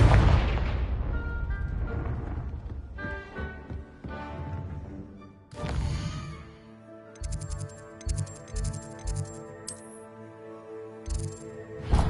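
Booming blasts of the Confringo spell in a Harry Potter video game, one loud burst at the start and another midway, followed by soft ticking and tonal game sounds.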